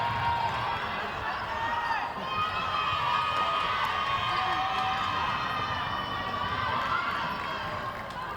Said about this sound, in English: And there she goes again, David, to the delight of the crowd